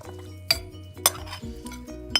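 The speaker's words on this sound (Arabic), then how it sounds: "ونقلب برضو حلو قوي عشان ياخدوا من الطعم الجميل بتاع البهارات والخضار والبصل" A spoon stirs tomato slices with vegetables and onions in a pan on parchment, giving repeated close metallic clinks and scrapes over a soft sizzle.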